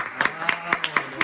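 Small group of people clapping hands in a sharp, even rhythm, about five quick claps, close by with a voice speaking underneath.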